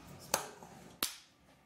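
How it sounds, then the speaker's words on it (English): Two sharp hand claps about two-thirds of a second apart, close and crisp, the second ringing out slightly longer, over a quiet background. "That's a double clap in case I missed the first one."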